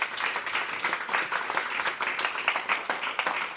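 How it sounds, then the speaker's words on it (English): Conference audience at a digital-markets panel at the Media and TechCon applauds the speakers, a steady, dense wash of many hands clapping throughout, moderately distant and even in level. "And a big applause for Max, Selina, and Albrecht."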